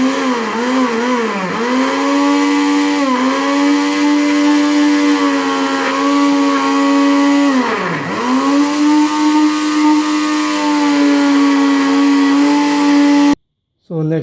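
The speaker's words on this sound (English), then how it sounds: "So let's use the mixer first." Electric mixer whirring loudly and steadily while chili ingredients are prepared, its motor pitch dipping under load a few times before it cuts off abruptly near the end.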